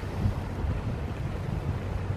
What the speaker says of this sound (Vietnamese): Tiếp tục tăng tốc ra khơi.